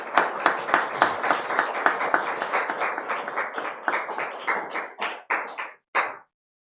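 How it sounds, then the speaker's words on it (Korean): A church congregation claps in rhythm, a fairly close, steady beat of sharp claps that slows and thins out to a few final claps before stopping. "뜨거운 박수로 잠깐 일어나셔서 뜨거운 박수로 네."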